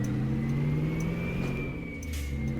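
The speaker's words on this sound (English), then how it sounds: "it grinds going in and out of those 3 locations on the shifter, so it means it's loud" A Mack F700 truck in American Truck Simulator runs with a steady mid-pitched engine drone and a faint whine holding across the clip, though no distinct gear grind stands out clearly.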